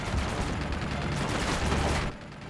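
Rapid bursts of gunfire and explosive blasts from a firefight in the video game Uncharted 2: Among Thieves, a dense continuous volley lasting a couple of seconds, loud and close.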